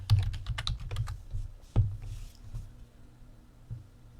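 Keys clatter on a computer keyboard while a command is typed, a quick burst of close clicks with a louder keystroke near the middle, then quieter scattered taps.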